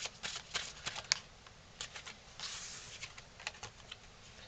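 A deck of tarot cards being shuffled, quiet crisp riffling and flicking in irregular bursts, close but faint, with no talking.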